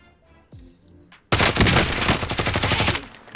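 Automatic gunfire in Call of Duty: Warzone rattles out in a loud, rapid burst lasting over a second, after a few quieter game sounds.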